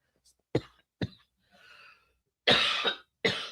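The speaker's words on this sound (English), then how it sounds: "I cough when I'm outraged." Several sharp coughs, a couple spaced out early and then a louder burst of rough coughing near the end, close to the listener.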